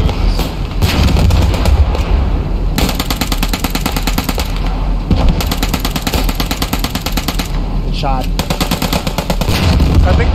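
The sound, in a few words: gunfire in a military shooter video game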